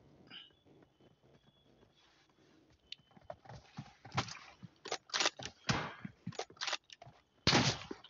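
Video game gunfire rings out in sharp, irregular cracks and short bursts, quiet and sparse at first, then denser and louder toward the end, with faint mechanical clicks between shots.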